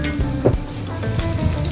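Garlic and crushed ginger sautéing in a pan for chicken liver adobo, giving a loud, close, steady sizzle with brief stirring scrapes.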